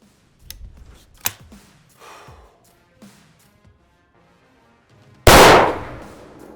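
A large-calibre rifle fires a single loud, sharp blast near the end, after quiet handling clicks and rustles of gear being readied.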